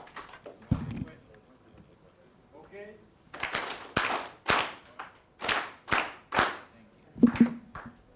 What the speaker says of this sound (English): Can we do 2 claps the Kenyan way?